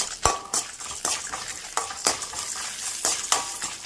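Turkey berries (sundakkai) are dry-roasted in a kadai: a spatula scrapes and clacks against the pan in a steady rhythm of sharp, close strokes over a low rustling roast.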